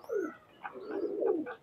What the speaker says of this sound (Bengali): টেডির একটা মায়া কবুতর দেখাচ্ছি আপনাদেরকে